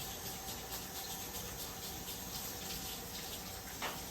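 A kitchen tap runs steadily into a sink while hands are washed beneath it, a close, even hiss of flowing water with faint splashing and no talking.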